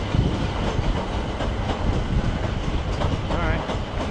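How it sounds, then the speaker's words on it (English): A South Western Railway electric train formed of a class 456 and a class 455 unit rolls past at Clapham Junction, loud and close, with continuous wheel rumble, rhythmic clatter over rail joints and faint squeals. "there's a Southwestern Railway train made up of a 456 and a 455"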